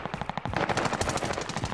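Rapid automatic gunfire in the Call of Duty video game, loud and close, a dense burst of fast repeating shots that runs without a break.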